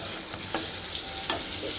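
Sliced pointed gourd fries in a pan with a steady close sizzle, broken by a few short scraping stirs of a spatula, with no voices.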